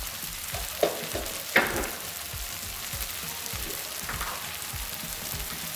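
Onions frying in a pan, a continuous close crackling sizzle broken by a couple of sharp clinks of a utensil against the pan.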